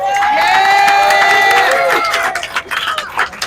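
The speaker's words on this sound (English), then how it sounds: "give them a hand of applause" An outdoor crowd at an Oakland merchants' strike rally cheers and whoops for local business owners, loud high shouts swelling together, then breaking into scattered calls and claps as it fades.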